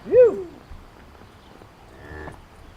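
Cattle moo once loudly and close, followed later by a fainter, longer bellow, during cutting horse training on a Western-style ranch in Poitou.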